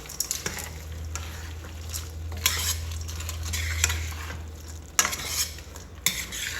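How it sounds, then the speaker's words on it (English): Food stirred in a frying pan while cooking taco dinner ingredients: scraping utensil strokes and clinks against the pan over a soft sizzle, with a low hum and a few sharper knocks near the end. "Stir it in real good."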